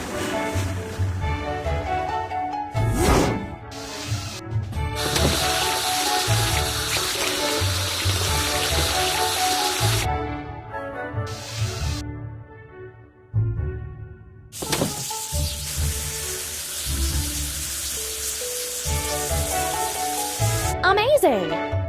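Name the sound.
water spray washing a blue barge in a cartoon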